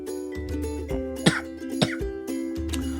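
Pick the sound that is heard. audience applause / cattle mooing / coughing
coughing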